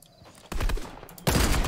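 Gunfire in the Fortnite battle royale video game: two sudden loud bursts of rapid shots, the second louder, following a brief quieter lead-in.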